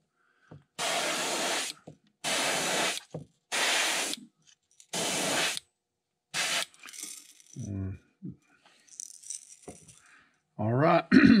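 Paint is sprayed onto a shad-style fishing lure to lay down its back color: five loud, hissing bursts, each about a second long, separated by silences, then some light handling clatter and a voice speaking.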